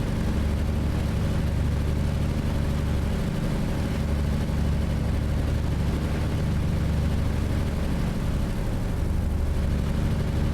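Diesel engine of a TMC Ruda 579 truck in American Truck Simulator, heard from outside the cab: a steady, loud low rumble that holds throughout with no talking.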